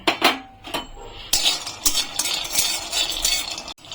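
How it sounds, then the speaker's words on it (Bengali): Peanuts are dry roasted in a hot, oil-free wok, with a spatula scraping and clattering against the metal in irregular bursts and the nuts rattling, close and fairly loud, with no talking. "এখন শুকনো খোলায় আমি কটা বাদাম ভেজে নেব।"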